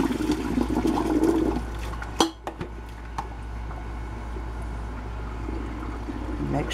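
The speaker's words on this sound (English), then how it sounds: "We're going to drain them again." Water being drained from a pot of watermelon rind preserves in a home kitchen, a steady pouring wash with a few clanks of the pot partway through.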